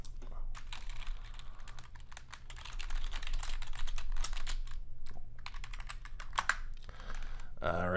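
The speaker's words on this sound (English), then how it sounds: "I just typed that out in the chat room." Rapid typing on a computer keyboard during a live day-trading session, a steady run of close clicking keystrokes over a low hum, with a brief clatter of louder noise near the end.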